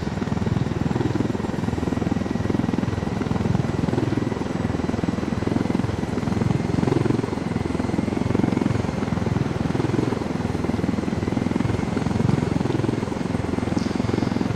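A helicopter in Ghost Recon Wildlands flies continuously, its rotor thump and engine whine droning steady and close throughout without any talk.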